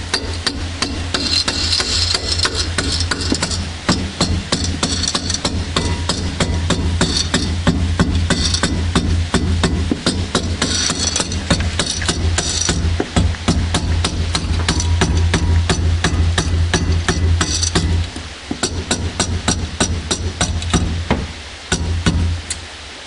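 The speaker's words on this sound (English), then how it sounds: "get a mallet in there." Mallet blows tapping a traction bracket over the factory rear mount of a Toyota AE86 during a 4-link rear suspension install, a dense run of sharp, loud knocks close by over steady workshop background hum.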